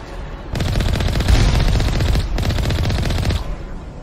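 Sustained automatic gunfire aimed at turrets in the video game Mass Effect Legendary Edition, two long loud bursts of rapid shots separated by a brief pause, close and alone.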